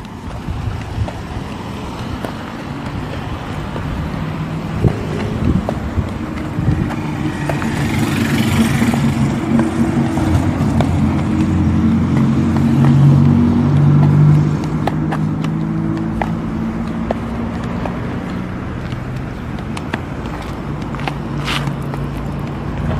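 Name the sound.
car approaching from behind on the road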